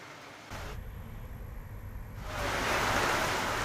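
Heavy summer downpour in Nagapattinam, a dense steady hiss of rain that grows louder toward the end, with no voices.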